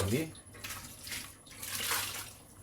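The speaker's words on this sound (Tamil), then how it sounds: "தண்ணி நம்ம சேர்த்துருவோம்." Water splashes and gurgles as it is poured into a pot of simmering chicken curry, a soft uneven pour with a brief voice at the start.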